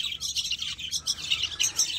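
Myna birds calling in a backyard flock, a busy run of sharp, bright chirps and squawks repeating close by over a low background murmur.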